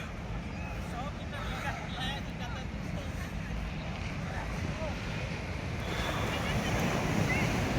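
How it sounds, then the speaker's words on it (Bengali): High-tide sea waves at Puri beach before sunrise wash in as a steady, broad roar, with wind buffeting the microphone and swelling slightly louder near the end. "এখন পুরো জোয়ার,"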